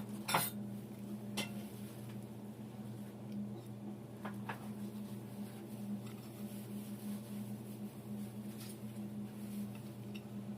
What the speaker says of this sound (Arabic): هاخد بقى كده هنا الصينيه وهدهنها بالخليط اللي احنا عملناه ده